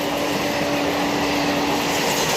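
A train roars through Begunkodar railway station in Purulia at high speed without stopping, making a loud, steady rumble with faint wheel noise throughout.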